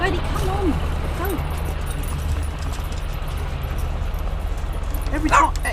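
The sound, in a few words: dog barking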